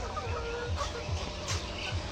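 Layer hens on a poultry farm holding white and red birds cluck in short repeated bursts, a dense flock close by with steady barn noise underneath.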